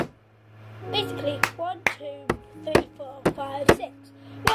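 Children play a clapping game, sharp hand claps and table slaps in a steady rhythm, about eight crisp hits, with children's voices chanting between them.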